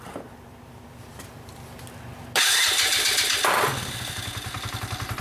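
A Coleman AT125UT ATV engine cranks briefly, then catches with a loud burst and settles into a steady, close, slightly uneven idle.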